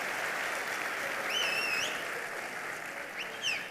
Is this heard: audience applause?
yes